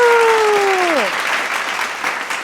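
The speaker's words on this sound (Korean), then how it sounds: "예배를 드리는 모든 친구들에게 박수!" Loud applause from a children's Sunday worship service, with a sliding tone at the start that drops off as the clapping carries on, then gradually thins out.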